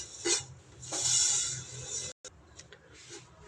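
Dry sevaiyan vermicelli roasting in a pan over low heat for sheer khurma, heard as light scraping and rustling stirs with brief louder scrapes and a short gap, close and fairly quiet.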